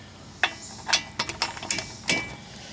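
A ratchet wrench clicks in short, separate bursts while loosening a 17mm brake caliper bolt on a 2007 Toyota Camry. About half a dozen crisp ratcheting strokes ring out close by, with pauses between them and no talking.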